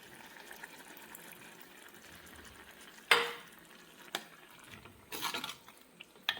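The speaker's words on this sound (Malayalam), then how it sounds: "ഇനി നമുക്കിതിലേക്ക് തൈര് ഒഴിച്ച് കൊടുക്കാം." Curd is poured into a cooked cucumber and coconut curry, then stirred, with soft liquid splashes, a sharp scrape of a spoon against the pan and quiet gurgling stirring noises, close and fairly faint.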